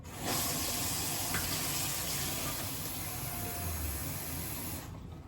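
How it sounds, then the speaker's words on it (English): Tap water runs into a blender holding banana and a big handful of spinach, a steady close hiss of pouring and filling that starts abruptly and cuts off near the end. "I'll literally just top that up with water and blend it"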